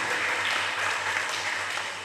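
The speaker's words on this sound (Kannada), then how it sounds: "ಎಲ್ರಿಗೆ ಒಂದು ಸಲ ಜೋರಾದ ಚಪ್ಪಾಳೆ ತಟ್ಟಿ ಅಭಿನಂದಿಸಬೇಕು." Loud, steady applause from an audience at a Lions Club charter night and district governor visit, continuous and dense for about two seconds, with a faint low hum underneath.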